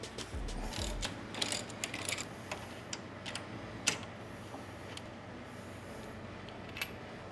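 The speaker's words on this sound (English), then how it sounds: "That's a 3/4 socket to remove those mounting bolts for the rear shock." A ratchet fitted with a 3/4 socket works the rear shock mounting bolts on a 2024 Harley-Davidson Street Glide, giving a faint, irregular run of clicks and small metallic ticks against a quiet workshop background.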